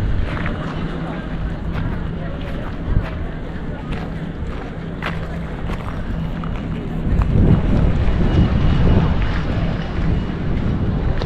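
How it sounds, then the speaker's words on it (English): Wind gusts buffet the microphone beside the water at a vast open square in Lisbon, a steady low rumble that runs the whole way and swells louder toward the end. "Feel those ocean river breezes."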